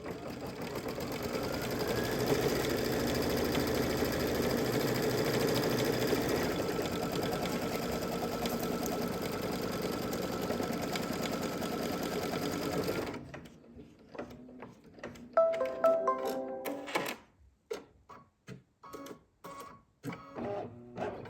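A Kimberbell embroidery machine stitches a lip balm holder with a steady, fast mechanical whir for about thirteen seconds. The stitching then stops and gives way to scattered clicks and handling noises.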